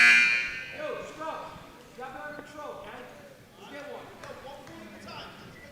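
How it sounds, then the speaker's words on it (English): A loud electronic buzzer sounds at the very start to end a period of a high school wrestling match in a gym, then fades under steady announcer commentary and crowd noise. "as the buzzer sounds"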